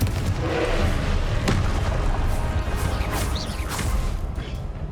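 Confringo spell blasts from Hogwarts Legacy land as loud booming, crashing bursts with whooshing sweeps over a dense, continuous rumble of combat during a trial.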